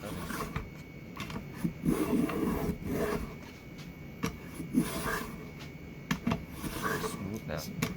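Cherrywood is shaved by hand into Japanese chopsticks with repeated rasping, scraping strokes at close range, uneven in rhythm and moderately loud, while a person speaks intermittently throughout.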